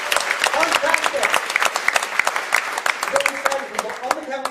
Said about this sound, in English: Give me a round of applause to go back to the audience.